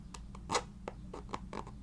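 A fingertip rubbing the textured logo on a New Balance sneaker, a few faint, close, zipper-like scratchy strokes in a quiet room.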